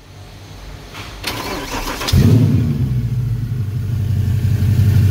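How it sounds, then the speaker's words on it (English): A 2010 Mercedes E63 being started during a workshop check-up: starter cranking and whirring, then the engine catches and settles into a loud, deep, steady idle rumble heard close. "Mr. Derek, start the car."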